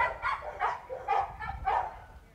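A dog barks four times in a steady, evenly spaced rhythm during a puppy and adult dog training class, the barks fairly close and clear against a quiet indoor background.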